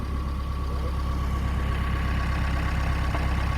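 A tractor engine on a bean farm idles nearby with a steady, low, even drone and no talking over it.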